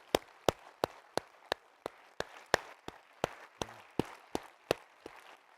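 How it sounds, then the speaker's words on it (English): A slow, evenly spaced run of single hand claps at a Co-op AGM in 2022, about sixteen crisp, fairly quiet claps close by with near-silent gaps between them, no voices. "give a round of applause to those people because they have been fabulous"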